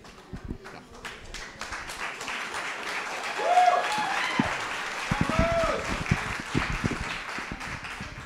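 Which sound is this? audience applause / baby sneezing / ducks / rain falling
audience applause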